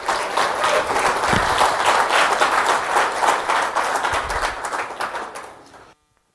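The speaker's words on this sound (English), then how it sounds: "Another round of applause for the Ioannidis." A crowd applauds loudly and steadily, the clapping gradually thinning out and fading to silence.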